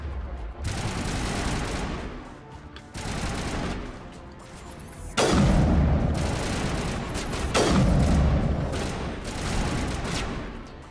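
Sustained bursts of automatic gunfire against a wall in Mass Effect Legendary Edition, several loud volleys separated by short gaps, heavy and close with booming impacts, and no talking over it.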